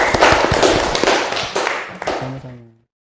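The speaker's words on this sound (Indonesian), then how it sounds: "Tepuk tangan buat Riyadi." A classroom of students clapping together in a dense burst of applause, loud and close, with sharp overlapping claps that thin out and stop near the end.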